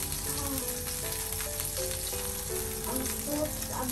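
Butter sizzling steadily in a pan as bread pizza fries, a dense continuous crackle with a low tonal hum running beneath it, close and fairly loud throughout.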